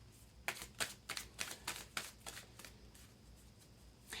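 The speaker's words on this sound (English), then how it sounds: "I'm going to work with the Moonology deck by Yasmin, Boland, and we'll see what comes out in your moon energies" A Moonology oracle card deck being shuffled by hand, with a quick series of about a dozen crisp riffling flutters, close and fairly quiet, fading into soft room tone at the end.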